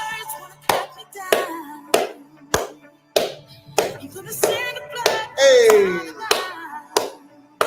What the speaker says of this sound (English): Put some energy in your hands. Feel the energy of you clapping.